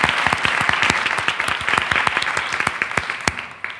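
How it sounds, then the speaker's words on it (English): An audience gives a round of applause at a school district meeting, brisk distinct claps forming a lively patter that thins and fades toward the end. "So if you would join me in a round of applause, I would certainly appreciate that."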